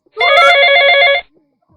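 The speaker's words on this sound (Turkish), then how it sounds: "damadın amcasının telefonu çalar" Telephone ringing as a sound effect in a school radio play, a single sustained electronic ring burst lasting about one second, loud and close, then silence.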